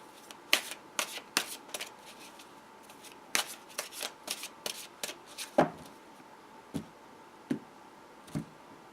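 Chrysalis Tarot cards being handled and dealt into a Celtic Cross spread: crisp close-up card snaps and flicks, a quick cluster early on, then sparser single slaps spaced out over the rest, no voices.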